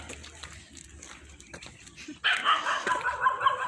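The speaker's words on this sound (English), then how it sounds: "Everyone has dogs around here." Dogs bark across a residential neighbourhood in Ghana, quiet at first, then a louder burst of several overlapping barks from a middle distance.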